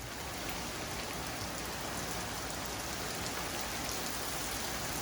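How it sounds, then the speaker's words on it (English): Heavy rain pounds steadily on an outdoor barbecue grill smoker holding temperature, a dense, even hiss of drops at close range with no pauses and no voices. "Getting hammered by rain all of a sudden, and I'm still maintaining about 260 degrees."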